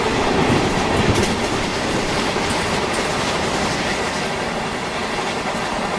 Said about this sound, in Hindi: आगे से गाइस ट्रेन आ रही है